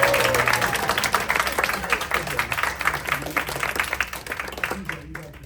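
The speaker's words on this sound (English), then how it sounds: "we need one more round of applause for him." An audience gives a full round of applause, dense clapping that holds steady for several seconds and then thins out near the end.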